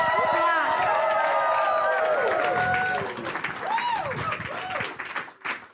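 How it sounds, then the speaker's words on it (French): Applause from a congregation during a church service, sustained clapping and crowd noise over lingering musical tones, fading and thinning toward the end. "Applaudis."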